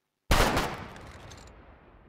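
A single sharp rifle volley from a firing squad cracks out after a moment of silence, then trails off in a long, fading echo.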